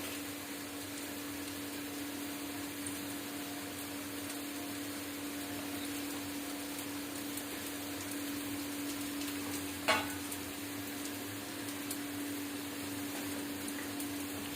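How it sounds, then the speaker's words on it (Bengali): Onion and garlic fry with assorted sauces in a pan for homemade chilli chicken, giving a faint, steady, even sizzle that runs the whole time, broken only by a single brief click near the middle. "একটু ভাজা হোক।"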